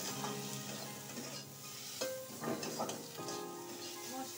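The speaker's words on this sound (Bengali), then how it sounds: "এইগুলোকে এবার ভালো করে ভাজা ভাজা করে নেব।" Ground cumin, turmeric and salt frying in a pan for a vegetarian curry, a quiet sizzle with stirring and spatula scraping against the pan, soft and near.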